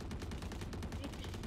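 Rapid gunfire in VALORANT, a fast rattling burst of shots repeating steadily throughout, faint and somewhat distant under game noise.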